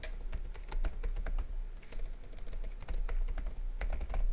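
Rapid, uneven keystrokes clatter on a computer keyboard while HTML code is typed, close and steady for several seconds with brief pauses between bursts.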